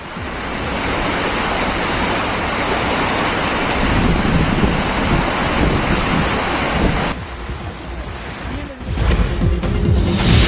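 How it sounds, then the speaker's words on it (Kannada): Heavy monsoon rain and rushing flood water in Sakleshpur, Hassan, make a loud, dense, continuous roar that drops briefly near the end and then surges back. "ಹಾಸನದ ಸಕಲೇಶ್ಪುರದಲ್ಲಿ ಮಳೆ ಆರ್ಭಟ ಮುಂದುವರೆದಿದೆ"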